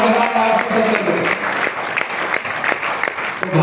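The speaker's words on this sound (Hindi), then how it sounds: "तालियां बजाइए जोरदार" Audience applause at a live third-anniversary celebration event in Bangkok, a steady wash of clapping from a large crowd with scattered louder claps, while a voice speaks faintly over it.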